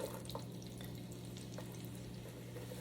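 Onions sizzle steadily in bacon grease in a hot skillet, a soft continuous crackle with a few faint clinks, close and fairly quiet, no talking.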